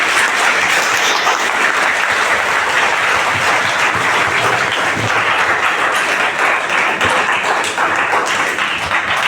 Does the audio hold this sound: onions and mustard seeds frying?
no